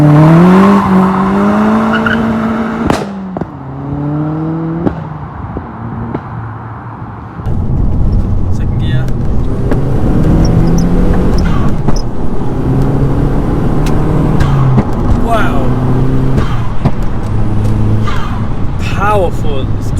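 A home-built Audi A3 1.8T pulls away and accelerates on the highway, rising engine harmonics climbing through gears with brief shift breaks, loud and close under speech, with steady road roar behind.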